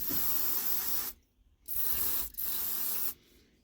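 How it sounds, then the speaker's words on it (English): Brake cleaner hisses into the carburetor of a Stihl FS 36 trimmer in three close, loud bursts, each about a second long, with brief silent gaps between them. "I'm going to spray the brake cleaner through here"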